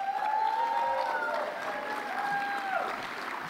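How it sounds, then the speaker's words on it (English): An audience at the Florida Democratic Party's 2019 state convention gala in Orlando claps in a sustained, moderately loud wash of applause, while a voice carries on over it through a sound system. "We need a lot of applause for him"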